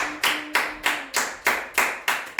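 A church congregation claps to acclaim Jesus, with loud, evenly spaced claps in a steady beat and no talking.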